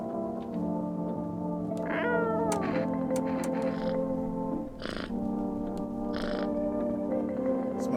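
Cat meows in the game No, I'm not a Human: several clear, fairly close mewing calls spread through the stretch, heard over a steady droning ambient music bed.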